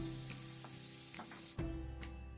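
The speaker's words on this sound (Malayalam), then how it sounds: "ഇനി 2 ടേബിൾ സ്പൂൺ വെളിച്ചെണ്ണ ചൂടാക്കിയിട്ട് അതിലേക്ക് സവാള ചേർത്ത് നന്നായി വഴറ്റിയെടുക്കുക." Sliced onions sauté in hot coconut oil for beef cutlets, making a faint, even sizzle with a brief clatter partway through.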